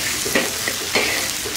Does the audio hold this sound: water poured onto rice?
no